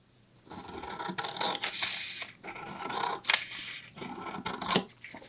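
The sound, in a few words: cutting a paper sewing pattern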